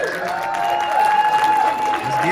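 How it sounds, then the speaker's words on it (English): A room full of people claps for managers at a motivational talk, brief applause over a sustained tonal hum, with a voice rising through it. "Can we clap for them, please?"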